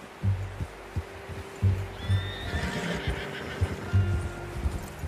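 Horse neighing and whinnying with clip-clopping hooves in the video game Red Dead Redemption 2, a close whinny rising over steady hoofbeats and low ambient rumble.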